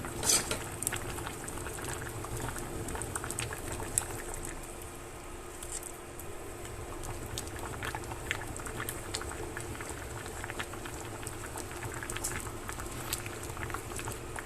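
Fish head soup boiling in a pot, a steady close bubbling and rolling simmer that continues throughout, with faint occasional clinks of utensils.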